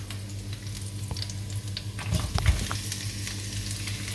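Onions for chicken adobo sizzle steadily in a hot pan while being stirred, with a few louder scrapes and knocks of the utensil against the pan, close and continuous.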